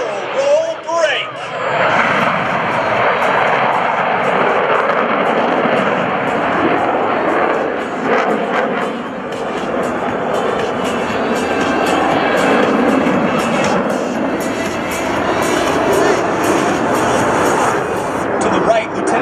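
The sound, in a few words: US Navy Blue Angels F/A-18 Hornet jets flying past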